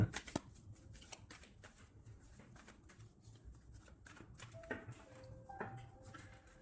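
A deck of tarot cards is cut and handled in a quiet room, giving soft papery riffles, taps and light clicks scattered across the stretch. There is no clear talking.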